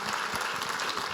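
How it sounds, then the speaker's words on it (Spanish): A church congregation gives a brief burst of applause, a dense, steady wash of clapping heard from within the hall. "Démosle un fuerte aplauso al Señor más especial por la vida de Elkin."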